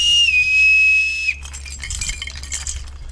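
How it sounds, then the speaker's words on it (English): A bosun's pipe sounds one shrill, steady whistled note with a slight downward slide, held for over a second before cutting off, followed by faint clinking and handling noise. "Now we have a bosun's pipe."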